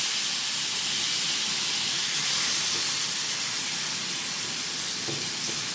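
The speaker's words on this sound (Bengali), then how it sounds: "এই রিফাইন তেলে আমি হালকা একটু চিংড়ি মাছটা ভেজে নেব।" Prawns frying lightly in a small amount of refined oil, a steady, loud hiss and sizzle with no break, and a few faint knocks near the end.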